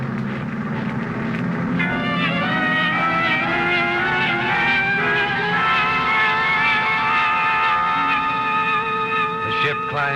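Turbocharged aircraft engines climb at raised revolutions in a loud, continuous droning roar with layered tonal whines that shift upward partway through, heard close and unbroken.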